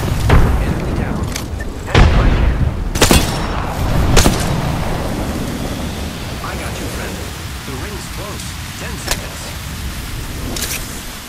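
Arc star and frag grenades exploding in Apex Legends, several sharp booms spread over the stretch amid constant game noise, with a player's voice over the top.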